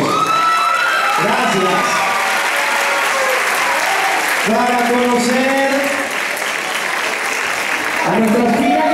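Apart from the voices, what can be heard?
audience applause and cheering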